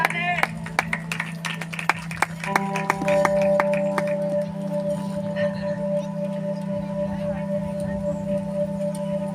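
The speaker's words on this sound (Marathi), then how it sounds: "टाळी वाजूया." Wedding guests break into scattered, sparse hand claps during the mangalsutra ceremony, the claps thinning out after a few seconds while a steady tonal hum carries on underneath.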